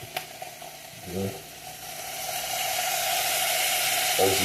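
Soy sauce and Worcestershire sauce sizzling in a pan of beef stroganoff, a steady frying hiss that swells gradually over a few seconds, with brief voice sounds at the start and near the end.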